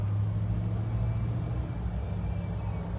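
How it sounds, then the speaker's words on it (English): A car engine accelerating from a green light rumbles steadily at close range, a low continuous drone with a faint hint of revving, against road traffic noise and no voices. "There's that engine sound when the light turns green or whatever."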